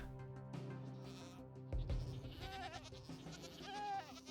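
A synthetic Minecraft goat bleats a few times in a wavering, nasal tone, accompanied by soft thuds and game-like background sounds, fairly quiet overall.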